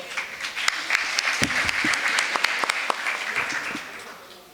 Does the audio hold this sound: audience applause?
yes